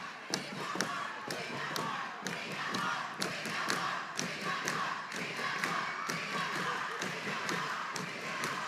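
A big Tuesday-night crowd at a high school volleyball match between Los Fresnos and Harlingen chants together in a gym, with rhythmic thumps and stomps keeping a steady beat throughout.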